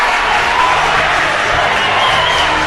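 A home crowd at a Lancers basketball game cheers and roars in a loud, continuous, dense wash of voices that holds steady throughout.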